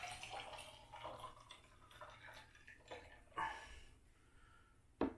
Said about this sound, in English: Ice, and then we just add some water.